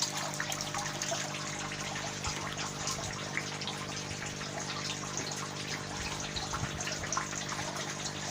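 A pump pushes water through black tubing to a circular distribution tube in a DIY tower garden, giving a steady, close, unbroken rush and gush of flowing water throughout.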